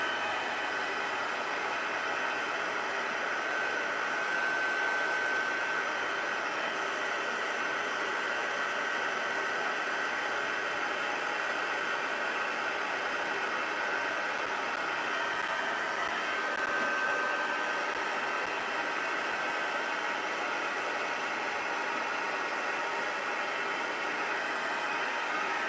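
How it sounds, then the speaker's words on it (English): An embossing heat tool melting embossing powder on a slimline card gives off a constant fan-driven blowing hiss, like a small hair dryer. It runs unbroken and fairly even for about twenty-five seconds with no voices. "I'm going to take my heat tool and just run it for a second and then melt it."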